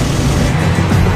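A car engine roars loud and close as the vehicle accelerates away, one continuous low rumble with no talking.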